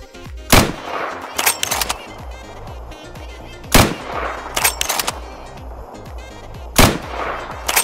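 A .50 cal machine gun firing in a Minecraft modern-warfare gun mod, loud sharp shots in repeated bursts about three seconds apart over a constant rumbling game background.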